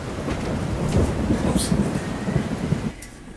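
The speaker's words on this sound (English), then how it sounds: "I saw the storm, Roderick." A thunderstorm at night, with steady rain and rolling thunder that rumbles low and continuous before dropping away abruptly near the end.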